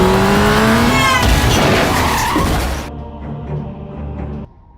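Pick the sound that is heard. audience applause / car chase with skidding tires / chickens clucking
car chase with skidding tires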